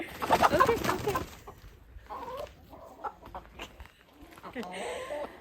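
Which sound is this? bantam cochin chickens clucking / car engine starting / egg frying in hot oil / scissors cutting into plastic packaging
bantam cochin chickens clucking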